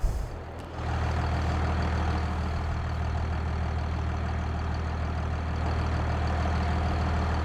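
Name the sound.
old tractor engine idling in the video game Farming Simulator 22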